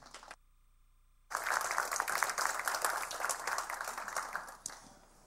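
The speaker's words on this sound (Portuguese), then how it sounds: "Vamos recebê-lo com um aplauso?" An audience applauds an environment director at a Café Filosófico evening talk on sustainable tropical forest exploitation; after a brief silence, dense, loud clapping from a full room sets in and carries on steadily before tapering slightly at the end.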